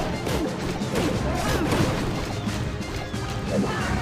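Crashing and smashing from an elephant rider wrecking an enemy town hall in a strategy video game, a dense continuous run of heavy impacts and breaking debris, loud and close.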